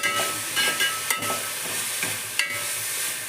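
Veld grape (pirandai) sautéing in a pan for a chutney, with a steady close sizzle and hiss broken by a few soft stirring scrapes, no voices.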